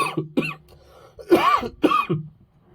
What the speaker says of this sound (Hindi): थोड़ा खांसी हो गया है दोस्तों